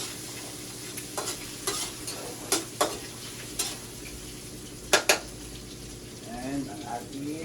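Garlic and onion stir-fried in a pan, with a steady sizzle and scattered sharp scrapes and clinks of a spatula against the metal, plus a faint voice near the end.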